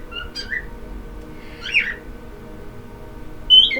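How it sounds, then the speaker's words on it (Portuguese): A bird chirps in short bright bursts near the start, middle and end, standing out over a quiet low indoor background with no talk. "O pássaro cantando."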